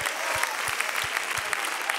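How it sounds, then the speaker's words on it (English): A church congregation claps in praise to the Lord, with brisk, lively applause running through and a steady low thump on the beat every third of a second or so, dense and close throughout. "Come on, clap your hands unto the Lord for a moment."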